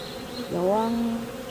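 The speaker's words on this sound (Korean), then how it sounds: "이곳 장흥에서는 아직까지 말벌이 입성을 하고 있습니다" Hornets buzzing around beehives in Jangheung, Korea, a brief close drone that swells and wavers in pitch over steady outdoor background noise.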